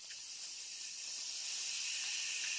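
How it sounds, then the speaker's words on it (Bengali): Onions frying in a pan give off a soft, even hiss that holds steady and quiet for the whole moment. "পেঁয়াজটা প্রায় ভাজা হয়েই গেছে"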